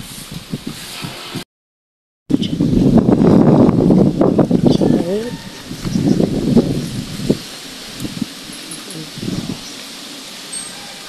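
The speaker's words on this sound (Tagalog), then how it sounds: "Mayroon pa hangin." Gusty wind roars and rustles through the Calabarzon area after Typhoon Kristine. The gusts are loud and close to the microphone, with a brief cut-out early on and a voice heard faintly in between.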